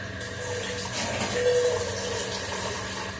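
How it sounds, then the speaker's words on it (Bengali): Water poured into a pot for cooking dal in a home kitchen, a steady splashing pour lasting a few seconds, moderately loud and close, with no talking. "একটু জল নিয়ে নিই, অল্প জল নেবো, বেশি নেবো না।"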